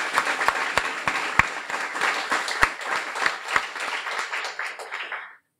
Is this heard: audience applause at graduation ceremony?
yes